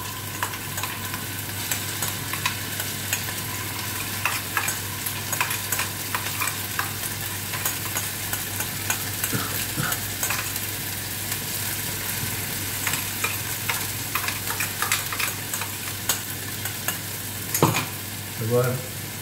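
Ginger and garlic paste fries in hot oil, giving a steady, close sizzle with crackles and the scrape of stirring throughout. A few louder spatters come near the end, and no voices are heard.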